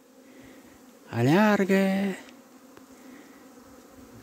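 Honeybees out on their first cleansing flight of a warm February day, some drinking water, make a steady, close buzzing hum throughout, briefly interrupted by a loud spoken voice.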